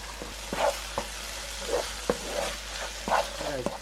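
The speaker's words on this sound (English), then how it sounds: "I want you to stir fry it around for around 2 minutes" Smashed tofu stir-fried in red chili oil for Korean banchan, with a spatula scraping and tossing in bursty strokes over a steady sizzle, close and moderately loud.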